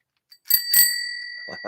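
Bicycle-style bell rung once with a bright metallic ding that rings out and decays, followed by a couple of light taps, close and clear with no talking.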